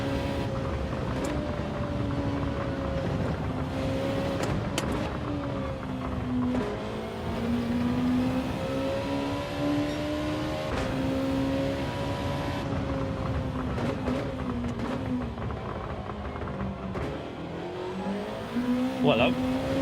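A race car engine in Gran Turismo 7 during a lap, its whining tone continuously rising and falling with gear changes and throttle, with occasional sharp clicks, while someone talks over it throughout.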